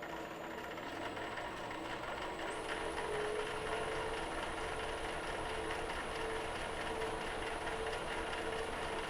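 A wood lathe spins a burl at 300 RPM, giving off a steady mechanical whir with a fast, rhythmic clatter and faint tonal whine that stays even throughout, with no voices.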